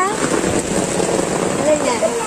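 Steady, loud rain falls on a rural duck farm during egg harvesting, a dense hiss of drops pattering on surfaces with a faint voice briefly audible underneath.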